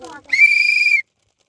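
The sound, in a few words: whistle blown to start spin-the-wheel game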